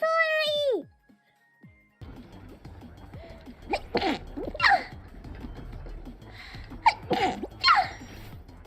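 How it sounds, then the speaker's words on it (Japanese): Sneezes from an animated-style female streamer, a few sharp bursts near the middle and end of the clip, with breathy pre-sneeze gasps and soft vocal sounds between them after a brief high-pitched voiced sound at the start. "やばい、くしゃみでそう。"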